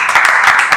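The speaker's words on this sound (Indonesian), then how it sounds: "Tepuk tangan untuk manajemen nih" Audience clapping for the management at a talk show, a short dense burst of many hands applauding, loud and close with no voices over it.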